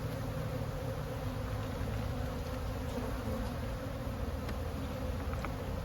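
A hive of honey bees, roughly two supers deep, gives off a dense, continuous buzzing drone, close and steady throughout with no talking.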